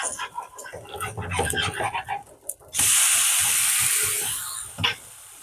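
Betel leaf dosa cooking in oil on a pan after flipping: clattering handling sounds and some voice give way to a loud sudden hiss and sizzle that slowly fades.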